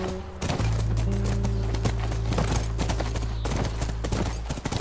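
Horse hooves clip-clop steadily near a ranch in The Last of Us video game, a quick rhythmic clatter over a low sustained background tone.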